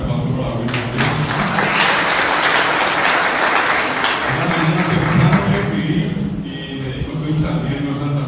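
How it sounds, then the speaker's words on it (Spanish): Sustained applause from an audience at a tribute event for Guarani language month, steady and fairly loud for about eight seconds, with voices and a low hum in the background. "Un fuerte aplauso para Luis Bretes"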